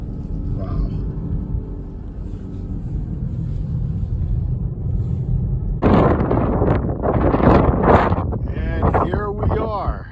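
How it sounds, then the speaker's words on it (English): Steady low roaring wind buffets the microphone on the summit of Pikes Peak, then rougher gusts and muffled voices join in over the second half. "It is very windy up here."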